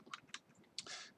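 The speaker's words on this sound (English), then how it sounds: "I have to type package load statistics" A few faint keystrokes sound on a computer keyboard as a command is typed into Octave. There are two quick taps, a short pause, then a longer clatter of keys, all close and soft.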